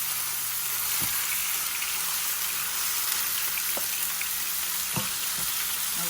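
Two to three pounds of beef frying in a pan for Philly cheesesteak, giving a steady, even sizzle with a few faint clinks, close and alone with no voices.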